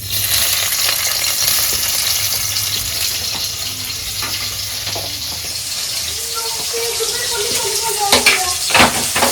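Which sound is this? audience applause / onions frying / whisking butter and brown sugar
onions frying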